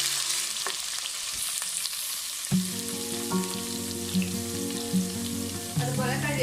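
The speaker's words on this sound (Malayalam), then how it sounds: "നന്നായിട്ടൊന്ന് വഴറ്റാം" Green chillies sautéing in a pan for a Kerala-style gooseberry pickle give a soft, steady sizzle, broken by a few regular spoon taps and stirring scrapes against the pan.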